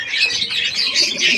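Giribaz pigeons in a loft give a steady, close chorus of cooing and chirping calls, with no voices over them.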